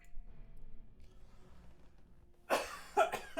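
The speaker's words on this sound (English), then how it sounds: "I'm so sorry about the coughing." A burst of several harsh coughs from someone recovering from COVID, after a few seconds of quiet room noise, close and loud, coming in quick uneven fits.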